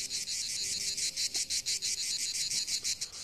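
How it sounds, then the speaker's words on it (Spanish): A male cicada sings by rapidly vibrating its membranes, a loud, close, steady buzzing pulsed in quick regular bursts, heard alone. "Haciendo vibrar sus membranas rápidamente, emite un sonido conocido como canto de la cigarra."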